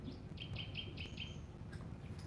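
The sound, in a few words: pet myna bird calling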